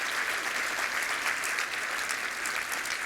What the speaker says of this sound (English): A round of applause for all of our sponsors tonight.